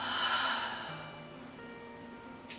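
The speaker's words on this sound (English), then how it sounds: "Taking a full breath in and a full exhale." A slow, full yoga breath drawn in and let out during a gentle flow session, soft and airy close to the microphone, swelling at the start and fading gradually into quiet, with a faint click at the end.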